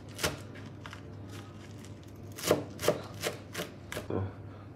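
A knife chops fresh parsley on a board, a few sharp close cuts early on, then a rhythmic run of five or six crisp strokes, with no talking.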